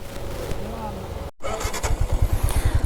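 Motorcycle engine on a foggy hillside at night, idling then a pulsing, throbbing engine rhythm close by after a brief cut, with people talking over it.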